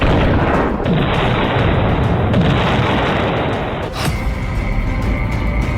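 Explosions from Russian Shahed drone air strikes on Kyiv form a loud, dense, continuous rumbling roar that fills the recording, with a sharper blast bursting out near the end.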